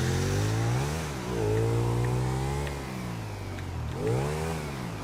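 A car engine in GTA 5 Online revs up in rising sweeps, drops back, then climbs again, loud and close with no talk over it. The car is a poor one.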